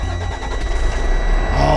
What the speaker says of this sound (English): That's the sound of the engine.